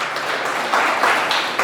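Church congregation applauds in steady, dense clapping, a short close burst of many hands with no voices over it.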